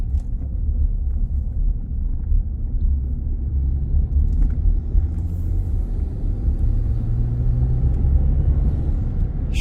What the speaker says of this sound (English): I'm sure you can hear the turbos from that EcoBoost. They sound really good.